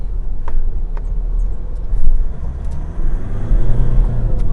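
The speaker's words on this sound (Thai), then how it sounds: "นาวาร่าต้องบอกอย่างนี้ครับอัตราเร่งเขาดี เพราะรถเขาเป็นแบบ 6 เกียร์นะฮะ" Nissan Navara 2.5 turbo cab pickup with a six-speed gearbox accelerating on a test drive, a steady loud engine and road rumble from inside the cab that swells slightly as it picks up speed.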